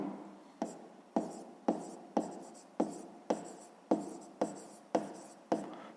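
A pen writes on paper in short rhythmic scratches, about ten quick strokes in a row, close and quiet with no talk.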